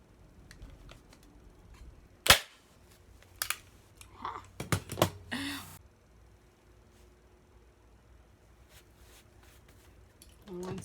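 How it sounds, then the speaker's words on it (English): A staple gun fires staples into plywood while an ironing board is being built, giving a few sharp, loud clacks around the middle of the quiet stretch, with faint background noise between them. "So it's time for this staple gun."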